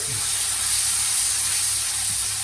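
Steak sizzling in its pan juices in a hot pan, a steady, loud broadband hiss with no pauses and no voices.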